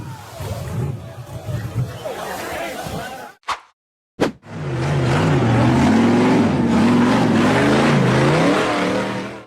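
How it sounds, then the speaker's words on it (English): An orange and black framed off-road buggy revs hard while climbing a steep rocky ravine. Its engine snarls, cuts out briefly, then roars back loud and sustained with rising and falling pitch, and voices can be heard early on. "orange and black framed buggy revved hard and accelerated as it attempted to climb a steep, rocky ravine"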